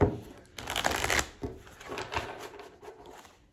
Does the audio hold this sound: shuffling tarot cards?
yes